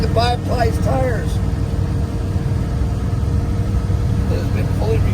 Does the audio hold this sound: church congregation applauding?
no